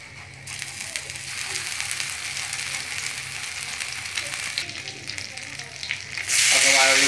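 Chili and crushed ginger frying in oil over a low flame for homemade spring rolls, a steady close sizzle throughout that swells to a louder, brighter hiss near the end.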